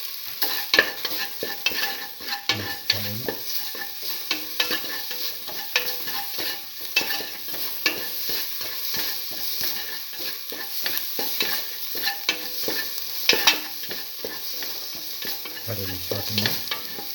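Garlic mung beans seasoned with turmeric and salt saute in a pan, a steady close sizzle broken by repeated scraping stirs of a utensil through the mixture.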